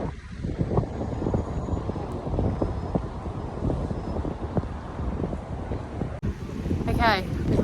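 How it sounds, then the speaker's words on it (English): Strong wind buffets an outdoor microphone on a street in London, producing a continuous low rumble with uneven gusts throughout. "It's so windy."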